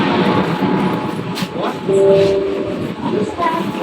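Underwater metro train running beneath a river, a loud steady rumble and rattle from inside a crowded carriage with a brief tonal whine, voices talking over it.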